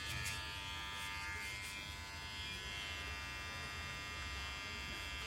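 Mi Beard Trimmer 2020 switched on and running, a faint, steady electric buzz with a constant hum, heard alone throughout.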